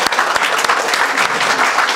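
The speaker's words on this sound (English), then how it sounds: "Let's welcome him with a huge round of applause" A youth dialogue audience gives loud, dense applause to welcome a guest speaker, a Coca-Cola Beverages Nepal sales director, sustained and close with no pause.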